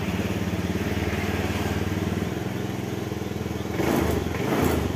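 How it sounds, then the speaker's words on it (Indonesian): A Honda Beat FI scooter engine runs at a steady idle with a fast pulsing putter, then revs up twice near the end as the throttle opens, loud and close. "dan motor bisa langsung digas ya teman-teman"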